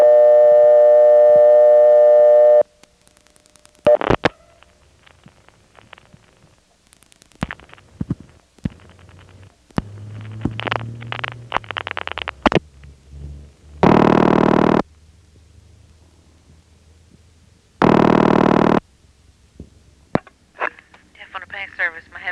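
A 1977 Carolina Telephone line in Wilson, North Carolina, on a 611 trunk dialed from a coin phone: a steady tone, then clicks and line noise, with two loud buzzing bursts of 90-volt ringing current sent back toward the caller.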